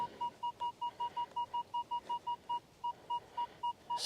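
Minelab Equinox 800 metal detector sounding a steady run of about fifteen evenly spaced, identical short beeps, fairly close and clear over a faint background hiss.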